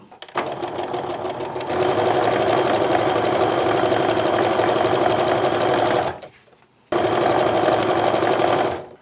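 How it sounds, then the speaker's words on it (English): A sewing machine stitching fat quarter quilt fabric pieces sewn right sides together, a loud rapid mechanical whir running steadily, stopping briefly, then starting again. "So we're just gonna flip them right sides together and sew."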